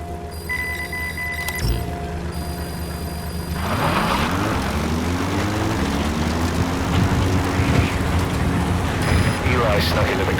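A helicopter arrives in the video game Metal Gear Solid V: The Phantom Pain. Its engine and rotor whine rise and build into a loud, sustained drone over a steady hum.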